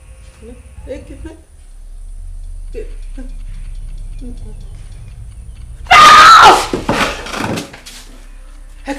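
A woman screams aloud from a bad dream: one sudden, loud, drawn-out cry bursting in near the end after quieter dialogue and scattered sounds.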